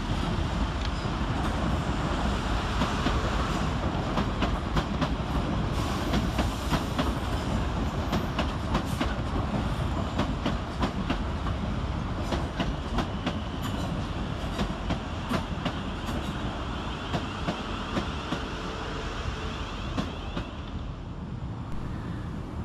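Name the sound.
South Western Railway Class 450 train at Clapham Junction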